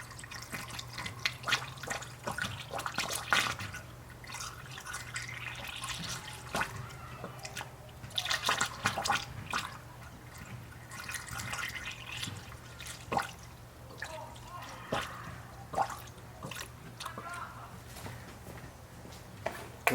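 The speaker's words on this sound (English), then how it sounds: "I'm going to start pouring it in." Red Toyota coolant mixed half and half with distilled water being poured into a car radiator, a soft uneven trickle and drip of liquid with small splashes over a low steady hum.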